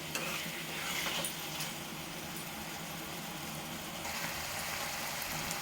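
Raw prawns frying in a pan until their water cooks off, giving a steady, close hiss of sizzling with faint stirring scrapes throughout.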